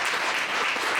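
Sustained dense clapping from an audience at an athletics club awards night, continuous and fairly close.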